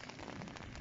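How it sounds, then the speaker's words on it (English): Rain pattering steadily on a surface at a Shoreham fishing spot, a dense soft crackle, faint and without talk. "Hopefully rain's not too bad."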